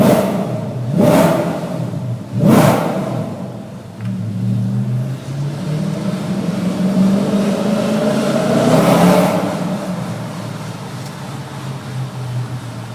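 A B7S4 car engine revs hard inside an enclosed parking garage, two sharp blips early followed by a longer swelling rev and fade, loud and echoing with no talking.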